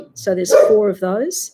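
A pet dog barks and yips in a few short, close bursts, overlapping a person talking indoors.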